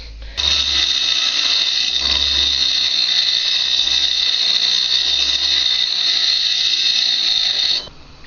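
Steady, loud high-pitched grinding on the end of a motorcycle forward foot control lever rod, reshaping the metal in one continuous pass of about seven seconds with no talk.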